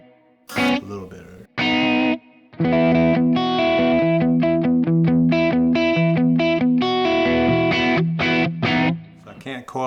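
Electric guitar played on the middle pickup through a Kemper Profiler with no reverb, giving a mildly distorted, chorus-tinged tone as a run of picked chords and single notes rings out close and continuous, with brief pauses early on.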